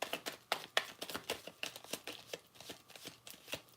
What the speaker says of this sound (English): And one last shuffle.